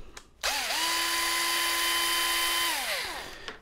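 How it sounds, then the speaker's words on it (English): A cordless power drill removes screws from the back of a Schlage BE365 electronic deadbolt, with one sustained, close whirring run that spins up, holds steady and winds down, and no talking. "And so I'm using a drill here, but you can just use a hand screwdriver."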